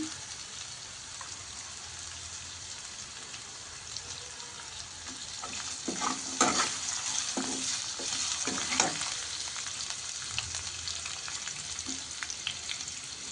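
Carrots and potatoes stirred and frying in a pan for upma, with a steady sizzle and a louder burst of scraping stirs midway, close and alone.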